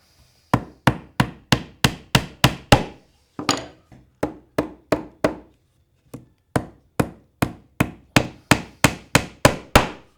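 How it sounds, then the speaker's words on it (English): Hammer blows drive nails into a wooden box lid, a run of about twenty sharp, evenly paced strikes in three bursts with brief pauses between, close and loud with no talking. "And then you go ahead and nail it on."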